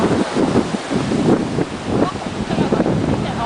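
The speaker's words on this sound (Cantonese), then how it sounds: "好大浪。" Big ocean waves break on a beach in Cancun at night, a loud, continuous surf roar with heavy wind buffeting, close and steady, with no voices clearly heard over it.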